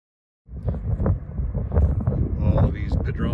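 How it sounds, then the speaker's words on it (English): Wind gusts across an outdoor parking lot, buffeting the microphone in a steady, loud rumble that starts abruptly and continues throughout, with no other clear sounds. "It's kind of windy out here"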